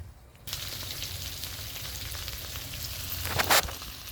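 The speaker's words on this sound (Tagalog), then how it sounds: "Caramelize na yung ating sibuyas." Onions caramelize in a covered pan, a steady close sizzle and crackle of frying that runs throughout, with a brief louder burst near the end.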